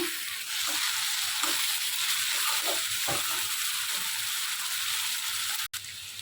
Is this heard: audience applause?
no